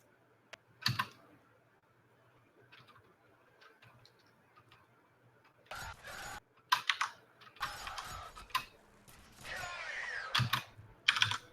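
Bursts of quick computer-keyboard keystrokes come in irregular clusters, close and fairly crisp, with quiet gaps between them and game-like background sound underneath during a F.E.A.R. Extraction Point session.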